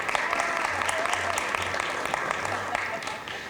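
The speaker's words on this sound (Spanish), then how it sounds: "Un aplauso también." At a telecom industry panel, an audience gives steady applause, continuous clapping at moderate volume with some crisp individual claps, tapering slightly near the end.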